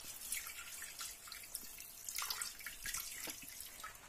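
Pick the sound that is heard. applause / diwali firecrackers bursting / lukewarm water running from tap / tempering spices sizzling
lukewarm water running from tap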